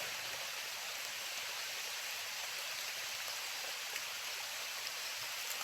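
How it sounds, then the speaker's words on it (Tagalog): Steady rain hissing softly, a continuous even wash of drops with no voices, fairly faint and unchanging. "Ulan naman."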